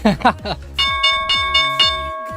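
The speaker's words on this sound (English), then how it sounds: "There's the bell." Stock market opening bell ringing in a run of sustained metallic clangs, each strike ringing on with steady tones, heard after someone speaks briefly at the start.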